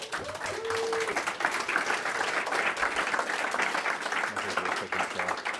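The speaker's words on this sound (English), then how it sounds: "Need a big round of applause for Lisa McNeely." Sustained applause from a seminar audience welcoming a guest speaker at a commercial real estate event, steady, dense clapping filling the room for several seconds, with faint voices mixed in.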